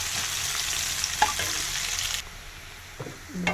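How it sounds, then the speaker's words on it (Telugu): Chopped onions sizzle steadily in hot oil in a pan with cumin seeds, a continuous bright frying hiss with a few brief scraping stirs, no voices. "ఇప్పుడైతే ఎర్రగడ్డ వేగింది."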